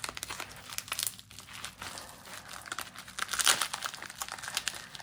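Paper crinkles and crackles as an envelope is handled and pulled at, with sharp rustling bursts and some tearing, close up with no voices.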